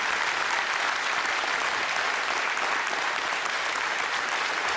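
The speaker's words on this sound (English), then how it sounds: "please give your largest possible round of applause for these very hardworking candidates" An audience at a 2018 county commission candidates' debate applauds, a steady, dense, sustained roar of clapping that fills the whole clip without any voices.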